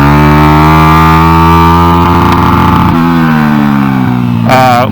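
A Honda NSF100 running a swapped XR100 engine on a new, stock-jetted carburetor is ridden in standard shift. The close, loud engine holds a buzzing high-rev drone, its pitch dipping partway through, with a brief rise in revs at the end.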